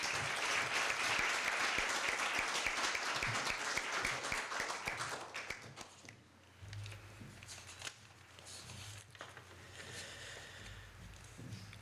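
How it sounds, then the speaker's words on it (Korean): An audience at a Korea University law school alumni evening claps to welcome a speaker, loud scattered applause for about six seconds that fades into quiet room tone with a faint low hum. "큰 박수로 맞이해 주시기 바랍니다"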